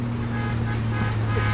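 Interior of a new Porsche under way on the road, its engine a steady low drone with constant road and wind noise throughout.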